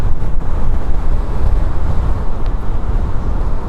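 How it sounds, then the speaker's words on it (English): Wind buffets the microphone on a trail during a ride on an ET Max, a loud, continuous low rumble with gusty surges and no voices. "It's windy on this trail right now"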